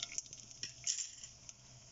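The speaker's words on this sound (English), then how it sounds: "Once urid dal is changed the color and mustard seeds splattering something like this" Mustard seeds, cumin and urid dal splutter in hot oil in a pan, with faint, scattered pops and crackles ticking irregularly over a quiet background.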